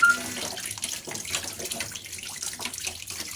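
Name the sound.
washing wheat flour dough under running water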